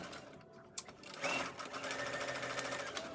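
A sewing machine whirs steadily while stitching elastic onto a homemade fabric mask, preceded by a brief click, close and moderately quiet with no voices.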